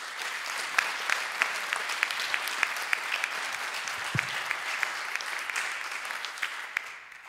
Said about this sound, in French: Je voudrais qu'on l'applaudisse parce que...